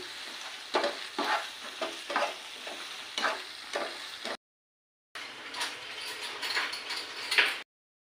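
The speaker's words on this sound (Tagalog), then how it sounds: "haluin na natin" Corned beef is stirred in a pan, with rhythmic scraping and clinking of the utensil over a light sizzle, briefly cutting out before resuming.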